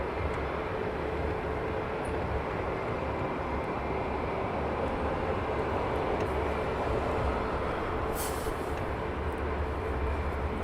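Ethiopian Airlines Boeing 787 Dreamliner at Heathrow Airport, a steady, dense engine roar that holds at even loudness for the whole stretch with no voices over it.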